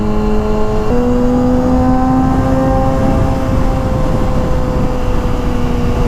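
A Kawasaki Ninja 636 sportbike accelerates hard on a highway, its engine note loud and close and climbing steadily in pitch after an early gear change, over constant wind and road roar.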